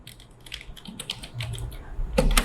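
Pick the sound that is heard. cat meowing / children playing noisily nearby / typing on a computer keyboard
typing on a computer keyboard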